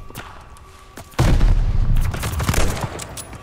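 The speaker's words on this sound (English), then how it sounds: "The teammates behind him was shooting." Gunfire in a Call of Duty Vanguard campaign battle: after quiet ambience, a loud burst of close shooting kicks in at once, then continues as rapid overlapping shots and booming impacts for the rest of the clip.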